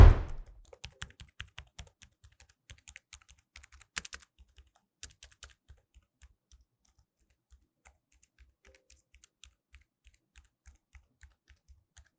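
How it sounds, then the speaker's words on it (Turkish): Keys on a Pusat Business Pro wireless keyboard with an aluminium case are tapped one at a time, quiet, soft clicks in a loose rhythm that thins out toward the end, with near silence between presses. "Klavyenin üzerinde bulunan bu tuşlar da oldukça sessiz"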